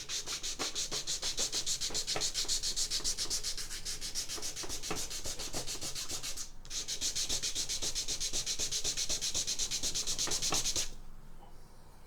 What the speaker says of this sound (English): sanded the line pretty much off there